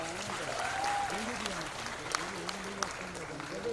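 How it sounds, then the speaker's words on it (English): Audience applause at a women's summit for the event moderator, a steady wash of clapping with a few louder claps near the end, heard alongside voices. "Let's have a huge applause for her, ladies and gentlemen"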